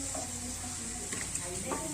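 Curry leaves sizzling in masala in a pan for a cooker chicken curry, a steady close crackling fry with light stirring scrapes and no talk.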